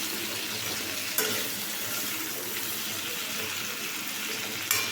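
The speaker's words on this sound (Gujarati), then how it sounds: "વચ્ચે વચ્ચે કંકોડાને હલાવતા રહીશું જેથી કરીને નીચે દાજે નહીં" Spiny gourd (kankoda) curry cooks in a pan with a steady broadband sizzle, stirred occasionally, with a couple of brief scraping clatters of the spoon against the pan.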